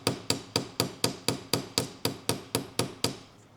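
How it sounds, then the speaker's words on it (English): A small hammer tapping a pin into a hole, thirteen sharp, evenly spaced metallic taps about a quarter second apart, close and clear with nothing else heard, ending in a short quiet. "I'm going to use this little baby hammer."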